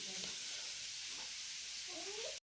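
Fish pieces frying in hot oil give off a steady, close sizzle with bubbling crackle that holds evenly for a couple of seconds, with faint clatter in the background and no talking.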